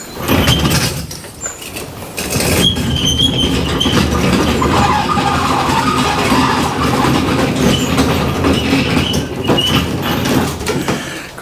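A motorcycle lift trolley being raised gives off a loud, continuous mechanical rattling and clanking grind with metallic squeaks, close by and steady, heard alone with no talking.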